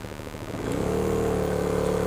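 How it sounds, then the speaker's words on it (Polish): A motorcycle engine picks up sharply as the throttle is twisted open, rising from a low uneven idle into a loud, steady, close-up roar that holds to the end. "Przekręcam sobie raz gaz na maksa i puszczam"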